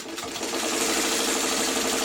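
A sewing machine runs steadily, stitching a seam on a Sugar Bowl quilt block for a coffee-themed quilt, with a continuous close, even whir throughout.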